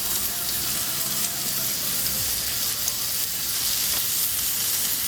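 Loud, steady sizzling of a wagyu steak searing on a hot cast iron plancha, a constant crackling hiss close up with no talking.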